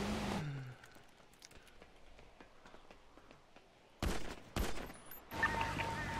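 Sharp, loud gunshots in a video game. A few distant cracks over quiet ambience give way to several close, heavy blasts near the end, spaced irregularly.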